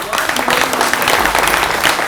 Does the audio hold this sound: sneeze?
no